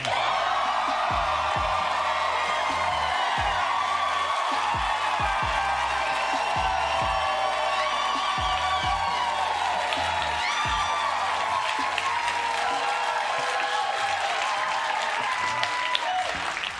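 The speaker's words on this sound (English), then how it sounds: "leading to a roar of applause from the audience" Studio audience at The Daily Show roaring with sustained applause and cheering, loud and continuous throughout with occasional whoops rising from the crowd.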